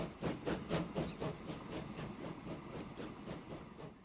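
A train in the video game Transport Fever labours up a hill, giving a steady rumbling chug with rhythmic pulses and a faint hiss. It stays at moderate loudness throughout, with no talk over it.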